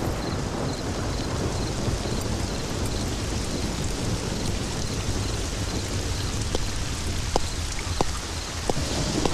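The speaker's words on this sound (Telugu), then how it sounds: "వర్షం వస్తున్నది సారు." Heavy rain pours in a constant dense hiss with low rumbling underneath, suggesting a storm, plus a few sharp drips or knocks late on; no one speaks.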